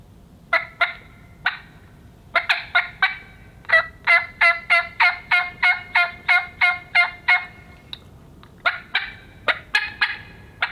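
A Ghost Cut turkey mouth call blown to imitate wild turkey yelps, with a long run of sharp, rhythmic yelps in quick series and brief pauses, close and fairly loud with no talking.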